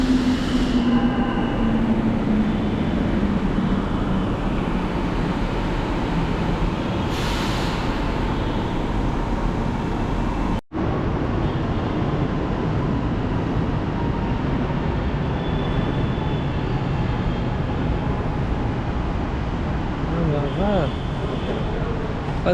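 A Chennai metro train rumbles steadily through a station, a continuous loud roar of wheels and motor with a brief squeal near the end, while voices talk over it.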